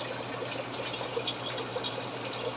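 Water runs steadily from a tap while dishes are rinsed after frying eggs and parathas, a continuous close wash with faint splashes and clinks and no talking.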